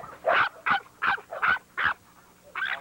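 Max, a young dog about eight and a half months old in a kennel yard, gives a quick series of five or six sharp barks mixed with whimpering yips, close and loud.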